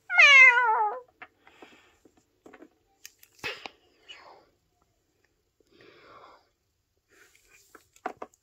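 A cat gives one clear, loud meow at the start, followed by faint scattered rustles, clicks and soft mouth noises in an otherwise quiet space.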